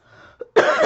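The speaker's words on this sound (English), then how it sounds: "If I cough, I'll pause it because it's quite not a nice cough when it's really bad." A person gives a single sharp, close cough after a faint breath, short and abrupt.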